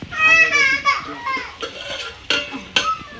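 A metal lid set down on a pan of salted egg dish cooking on the stove, landing in a few sharp clinks after some stirring and scraping of dishes, with a voice nearby.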